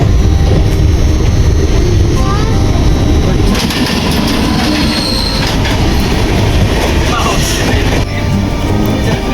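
A train rumbles loudly along the tracks as two trains pass each other on a crossover, with continuous heavy wheel roar, clattering and occasional metallic squeals close by.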